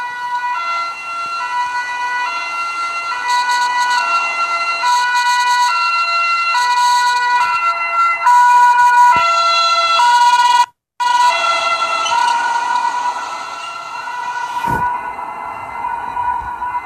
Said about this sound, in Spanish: escuchamos sonidos de unas ambulancias